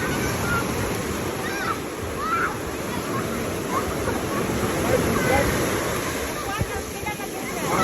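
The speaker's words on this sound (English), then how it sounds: "This is the biggest wave they've seen." Large ocean waves crash and wash steadily onto a beach, a continuous surf roar with occasional louder swells, while people talk in the background.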